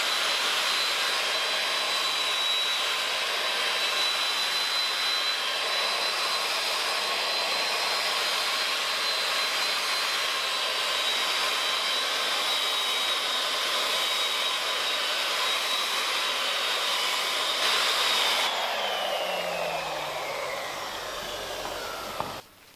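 Polishing pad working buffing compound over a car panel to remove scratches, a steady loud whirring drone that holds for about twenty seconds, then winds down and stops at the end.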